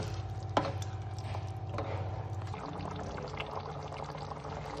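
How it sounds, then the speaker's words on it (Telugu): A sharp clink, then a glass of water pours steadily into a pan of chicken with a bubbling, gurgling rush that softens as it fills, with faint clattering alongside. "నేనైతే ఒక గ్లాస్ నిండా వాటర్ పోసామండి."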